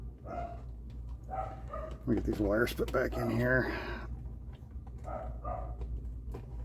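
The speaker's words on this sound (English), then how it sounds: "Sorry for the dog barking." A dog barks several times in the background, fairly faint, while someone talks over it during a bench repair of a Technics SL-Q300 turntable.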